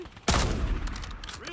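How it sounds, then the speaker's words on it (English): Gunfire in a zombie shooter video game: a sudden loud burst of shots that trails off into a sustained rattle of scattered fire and game noise, with no voices over it. "Taking fire!"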